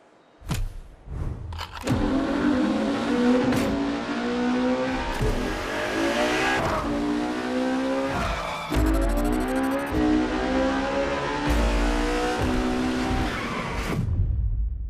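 A Ferrari Enzo supercar in The Crew Motorfest revs and accelerates hard, with engine pitch climbing through repeated gear shifts and sharp tire squeals, loud and close with no talk.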